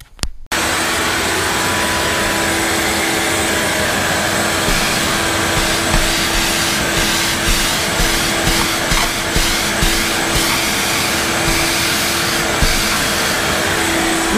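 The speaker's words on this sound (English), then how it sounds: "Lucky I have a 5-horsepower vacuum" A powerful 5-horsepower vacuum roars loudly and continuously at close range after a brief start-up, with a steady hum and a broad rushing hiss that barely changes.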